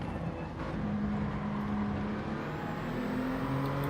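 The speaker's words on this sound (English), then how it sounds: "I am changing up gear early, and again that is for more fuel saving" Steady drone of a race car engine in Gran Turismo, held at a constant pitch with a shift partway through, short-shifting early to save fuel, loud and continuous with no talking.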